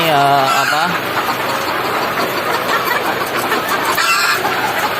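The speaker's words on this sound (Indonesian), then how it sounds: "ini ayamnya sekarang saya pegang Elba" A hen held in someone's hands clucks and squawks loudly and close up, in bursts at the start and again near the end, over steady background noise and a faint engine hum.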